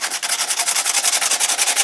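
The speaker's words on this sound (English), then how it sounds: "Go over your whole sheet with that noisy sandpaper." Sandpaper rubbed rapidly back and forth over a paper sheet, a close, dry scratching in quick even strokes, about eight per second, continuing without pause and with no talking.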